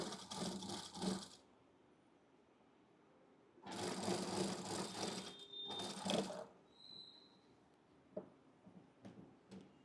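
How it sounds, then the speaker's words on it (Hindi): A sewing machine stitches a straight seam on katori blouse fabric, running in two or three close, steady bursts with pauses between and faint handling clicks afterward. "अब इसको हम यहाँ से ऐसे फोल्ड कर देंगे और यहाँ पे हम स्टिच लगा देंगे।"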